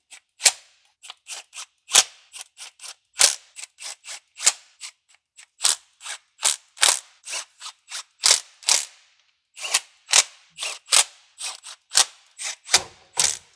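Ratchet clicking repeatedly as valve cover bolts are tightened on a heavily modified Japanese tuner car's engine, sharp close metallic bursts in quick uneven runs with brief pauses.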